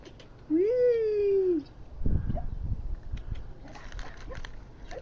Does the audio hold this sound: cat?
yes